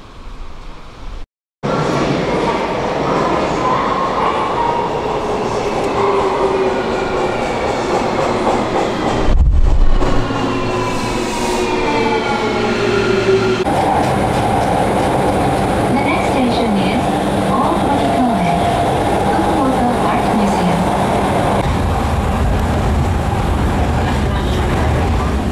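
Inside a rapid service train on a Japanese line, a steady rumbling ride noise holds throughout, with rail clatter, a brief drop and squealing passes, and a loud gust midway.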